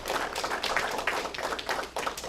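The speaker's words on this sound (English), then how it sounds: "Let's give them a round of applause." An audience at a middle school robotics awards ceremony applauds, a steady wash of many hands clapping in a hall, continuous and moderately loud with no voices over it.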